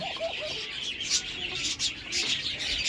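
Diamond doves and budgerigars chirp and chatter nearby, with a run of bright, quick twittering calls over soft background noise and no speech.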